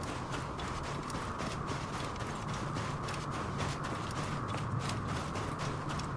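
Horse hooves clip-clopping steadily in Assassin's Creed Origins, a continuous rhythmic clatter over a dense ambient game background, with no talk.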